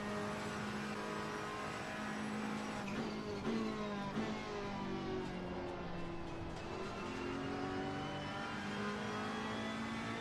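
A race car engine in the Assetto Corsa Competizione racing game revs up and down through gear changes while cornering, with a faint tire squeal, loud and continuous throughout and no voices.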